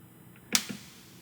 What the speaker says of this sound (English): We'll try to make this like a clap. It's high-pitched noise